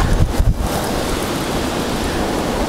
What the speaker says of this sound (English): I'm gonna get out of this wind.